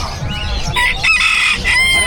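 A bantam rooster at the Bocaue Pet Market in the Philippines crows loudly and close, with a strained, wavering call over crowded market chatter and other fowl clucking.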